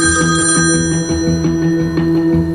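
A phone rings loud and close: a steady, repeating electronic ringtone with a regular pulsing beat, going on throughout with no talk over it.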